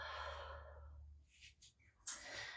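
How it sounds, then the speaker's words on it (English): Slow, deep breath drawn in and let out during a hot yoga session, soft and close, the long airy exhale trailing off and then followed by a quicker breath; no voice. "Let's do one more round of breath here. Nice deep inhale and exhale."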